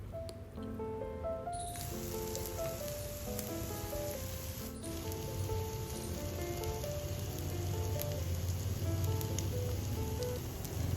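Suji uttapam batter, spread thin and topped with mustard seeds and finely chopped vegetables, sizzles in ghee on a pan over low to medium flame. The steady, close hiss sits under soft background music.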